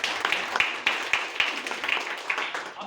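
Audience applause fills the room, a steady crowd clapping at an Indian business-plan seminar, with sharp individual claps standing out and holding loud for the full stretch.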